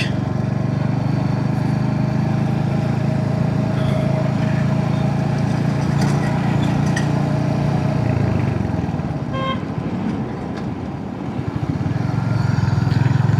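A Royal Enfield Hunter motorcycle rides along a highway between Sylhet and Narsingdi, its engine droning steadily under loud wind roar throughout, with faint traffic sounds in the background.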